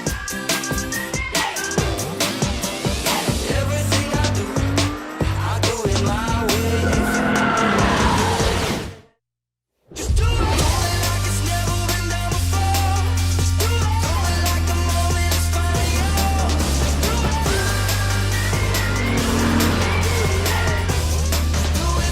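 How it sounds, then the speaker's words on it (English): Lexus IS 350 F Sport or IS 300 car driven hard around a race track on a timed lap, engine revving and tires squealing through corners, with a brief cut to silence midway before the driving resumes. "We're gonna do 1 lap around the track, time attack style, 1 car at a time."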